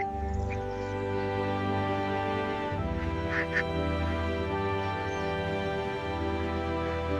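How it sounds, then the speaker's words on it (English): Welsh Harlequin ducks in the morning on a farm, a steady chorus of quacks and honks with a few sharper calls rising over it, fairly close and continuous. "Welsh Harlequin ducks are early risers by nature."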